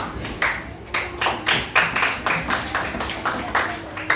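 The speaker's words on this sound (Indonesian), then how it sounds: "tepuk tangan dulu" Classroom children clapping their hands together in a regular rhythm, about eight to nine distinct group claps at an even pace, fairly close and clear.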